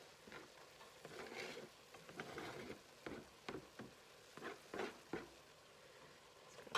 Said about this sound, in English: I'm just gonna add them into the pot and let these cook down